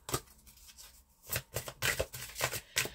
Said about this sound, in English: Let's just get one more astrology card here.